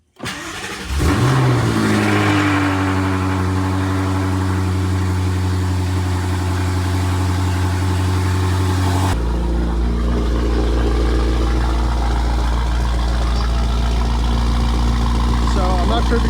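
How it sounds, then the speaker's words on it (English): A BMW F90 M5 engine cranks and catches with a loud rev flare right after a spark plug service, then settles into a deep, steady idle that drops lower partway through. Someone talks over it. "start it up and then let it idle"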